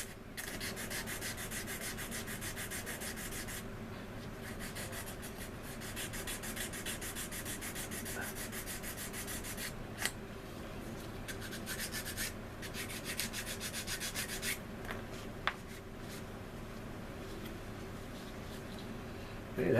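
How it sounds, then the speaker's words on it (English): Sandpaper rubbing filler on a seam of a plastic scale model aircraft, a C-124 Globemaster kit, heard as a continuous close scratchy rasp in long back-and-forth strokes with a couple of brief clicks and no talking. "Okay, that seems pretty well sanded out."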